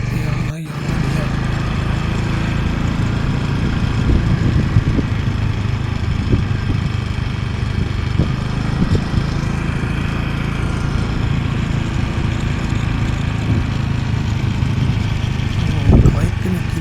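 A stopped vehicle's engine idles on a forest road, a steady low rumble filling the whole stretch at close range, with faint voices now and then over it.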